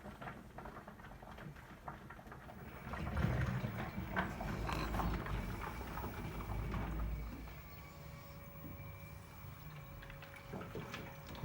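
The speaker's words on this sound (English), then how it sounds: "let's begin pumping" Pump on a BrewTools B80pro brewing system runs with a steady mechanical hum and faint tonal whine, mixed with liquid churning and gurgling that swells in the middle and settles to a quieter drone.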